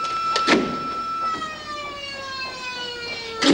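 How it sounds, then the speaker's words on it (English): A fire alarm rings in a prison, its shrill electronic wail sliding downward over a few seconds amid short bangs and knocks nearby, loud and without talk. "That is the fire alarm, Mr. Douglas."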